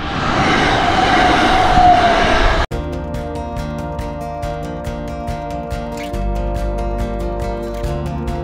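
Train passing by at a level crossing in Japan: loud rumble and rushing wind at first, then a sharp cut to rapid, evenly spaced wheel clacks over a steady hum as the cars roll past nearby.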